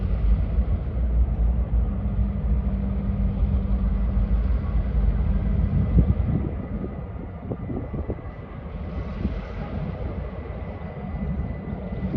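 Freight locomotives in New York Central lightning-stripe paint roll into Auburn station, a steady diesel engine rumble with rail noise, continuous and moderately close, with no talking.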